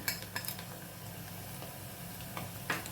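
Spoon stirring mutton masala, turmeric and byadgi chili powder into rice in a pan, a few soft scrapes and clinks over a steady low background.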